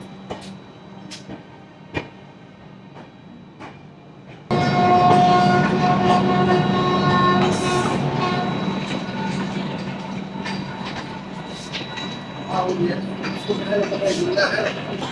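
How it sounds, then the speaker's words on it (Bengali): A train pulling out of Kolkata station bound for Ayodhya, with a steady loud rumble and rolling wheel noise that swells in after a quieter platform stretch, scattered clicks and knocks throughout. "আমাদের ট্রেন 2 মিনিট লেটে কলকাতা স্টেশন থেকে অযোধ্যা ধামের উদ্দেশ্যে যাত্রা শুরু করলো"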